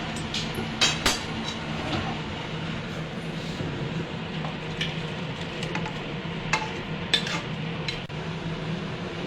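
Chicken soup thickened with cornflour being stirred in a pot, soft scraping and sloshing with a few sharp clinks of the spoon against the rim, moderately quiet and close, with no talk.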